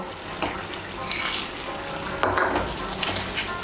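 Fried lentil dumplings (bori) stirred into a Bengali sukto vegetable curry with eggplant and bitter gourd: soft scraping and clinking of a spoon against the pot, with light sizzling, in a few short strokes.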